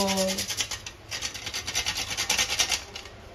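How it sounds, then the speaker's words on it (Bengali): Nutmeg is ground into powder with a rapid, scratchy rasping that repeats in quick strokes, close and fairly quiet, after a brief faint voice at the start. "আপনারা কখনো দেখেছেন এরকম ভাবে জায়ফল গুঁড়ো হতে?"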